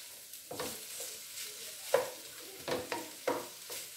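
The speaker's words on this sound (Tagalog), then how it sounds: "haluan na natin ng konti" Pancit bihon noodles being stirred in a pan, with several distinct scraping strokes over a soft background sizzle, close and moderately loud.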